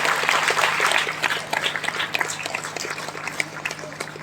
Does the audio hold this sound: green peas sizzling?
no